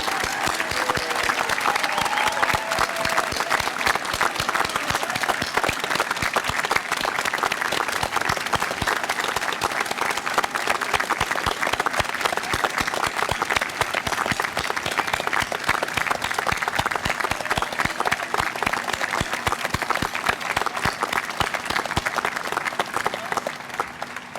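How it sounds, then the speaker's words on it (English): A large audience at a La Salle College High School commencement applauding the class of 2021, dense sustained clapping from many hands that holds steady for the full stretch with faint crowd murmur. "let's recognize and applaud the class of 2021 of LaSalle College High School"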